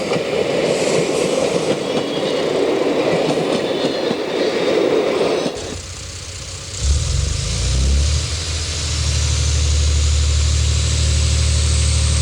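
X 4300/4500 Caravelle diesel railcar running on the line near L'Arbrel, a steady broadband rumble that shifts midway to a lower, heavier engine drone with rhythmic rail noise, loud and close throughout, no voices.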